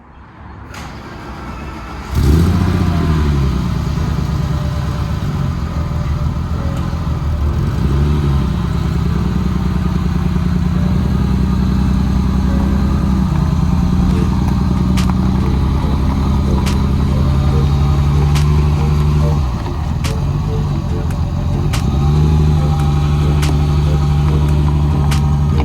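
A VW MK1 with a VR6 engine pulls away after a quiet idle, then drives steadily with a loud, continuous engine drone that rises and falls through gear changes, close and alone with no talk.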